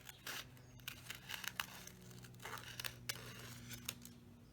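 Scissors cutting a design into a paper pop-up greeting card, a run of crisp snips and light tearing rasps at close range, with a faint steady hum underneath and no voices.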